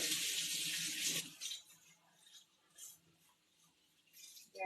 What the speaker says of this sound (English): And then this I'm just going to rinse off.